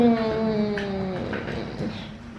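A pet cat meows once in a long, drawn-out, wavering call close by, followed by a quieter rustling moment.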